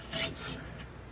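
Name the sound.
foam sponge filter being fitted into fish tank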